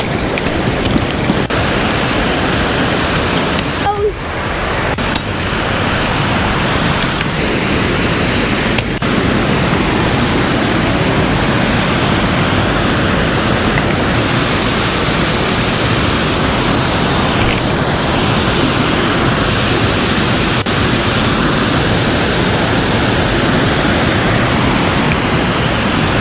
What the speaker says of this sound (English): This scenic 12-foot waterfall is an easy access from the parking lot